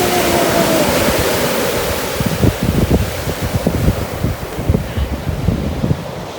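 Ocean surf and gusting wind at Delray Beach, Florida, a loud broad roar of waves with heavy wind buffeting the microphone, rumbling and sputtering throughout with no voices.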